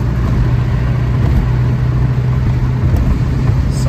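A 1973 Alfa Romeo GTV engine drones steadily from inside the car while driving, a loud, constant low hum with road noise underneath and no pauses.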